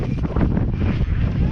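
Strong wind roars and buffets against the microphone in a steady, heavy rumble, loud and close, with no pause.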